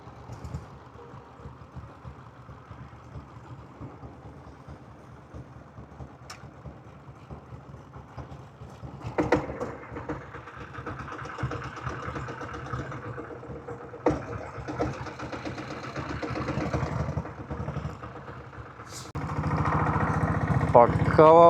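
A diesel Royal Enfield Bullet motorcycle runs on a road trip from Chennai toward Yercaud, its engine a steady mid-level thrum that grows louder and rougher toward the end.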